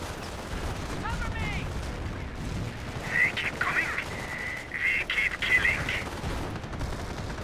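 A .30 cal machine gun bunker fires bursts in Company of Heroes, short rattling volleys mixed with distant gunfire and game effects, with a commentator talking over the action.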